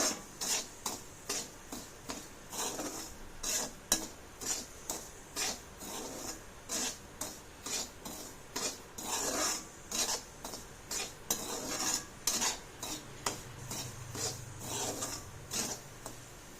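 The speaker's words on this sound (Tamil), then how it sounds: "ரவையை கொஞ்சம் நல்லா பொன்னிறமாக வறுத்து எடுத்துக்கலாம்" Semolina dry-roasts in a pan for upma, with a spoon stirring and scraping it in a steady rhythmic series of soft, close rasping strokes and no voices.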